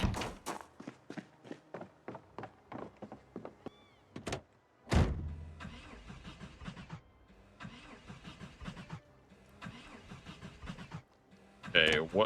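A car engine in the Project Zomboid video game cranks again and again without catching. A rapid series of starter pulses is followed by a heavy door-like thunk, then longer rough bursts of engine noise that never settle into a steady idle.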